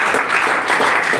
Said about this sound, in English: can you give a round of applause for our debaters?